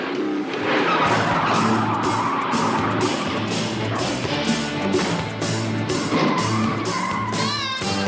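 A car drives fast with its tires skidding and squealing in a chase, the engine loud and close throughout and the tire screech sustained with a few sharp bursts.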